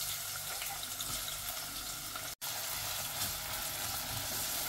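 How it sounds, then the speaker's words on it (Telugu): Thinly sliced onions fry in hot oil inside a pressure cooker, giving a steady, dense sizzle close by that runs the whole time, with one brief cut of silence in the middle. "ఇప్పుడు మనం సన్నగా కట్ చేసుకున్న ఆనియన్స్ ని గోల్డెన్ బ్రౌన్ వచ్చే వరకు కూడా ఫ్రై చేసుకోండి"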